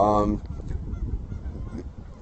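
Geese honk at the start, a burst of loud nasal calls, followed by softer murmuring and shuffling sounds.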